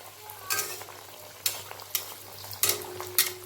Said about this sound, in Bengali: তেলটা গরম হয়ে গিয়েছে। এখন আমি এটার মধ্যে একটা একটা করে ফিশ ফ্রাইগুলো ছেড়ে দেব।